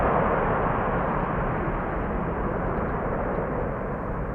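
A KLM Airbus A330-300 airliner roars at snowy Amsterdam Schiphol Airport, a broad, steady, loud rumbling wash of jet noise that holds constant throughout with no voices.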